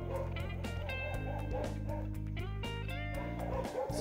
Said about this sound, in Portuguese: São os cães exploradores.